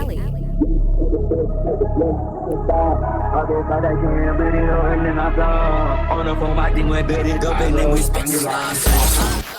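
A mashed-up sample of a song: a dense, steady musical texture with layered tonal lines that climb gradually, loud throughout and ending in a sudden noisy burst.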